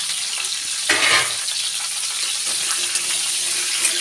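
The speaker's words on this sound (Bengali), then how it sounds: "দিয়ে দেবো তেলের মধ্যে আর ভালো করে ভেজে নেব" Pointed gourd, potato and onion fry in plenty of oil in a kadai, giving a steady bright sizzle with a brief stirring scrape near the start and no talk.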